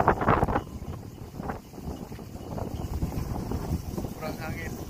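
Strong wind buffets the microphone at a waterside fishing spot in Japan, a steady broadband rumble with gusts that swell and ease over a few seconds, with talk mixed in.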